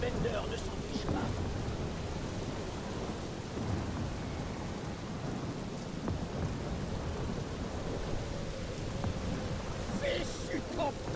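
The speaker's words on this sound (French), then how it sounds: "Fichu tempête!" A storm in the video game Marvel's Guardians of the Galaxy: steady rain pours throughout while low thunder rumbles underneath, fairly quiet and continuous.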